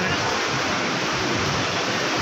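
An artificial indoor waterfall in a shopping mall pours in a dense, steady rush of falling water, even and unbroken from start to finish, close to the listener.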